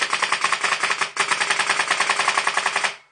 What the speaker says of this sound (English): I've got to shoot the gun indoors without upsetting my neighbours